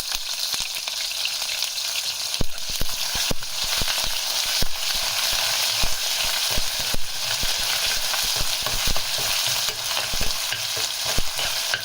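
Momo chutney ingredients with ginger garlic paste fry in a pan on a slow flame, giving a steady close sizzle broken by frequent sharp scrapes and taps of a spoon stirring.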